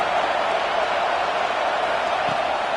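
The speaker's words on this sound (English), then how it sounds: "Listen to this crowd just shaking the girders of this place, trying to help their defense" A packed stadium crowd at a Nebraska college football game roars steadily, a dense, unbroken wall of cheering and noise that stays loud and even throughout, with no clear voices rising out of it.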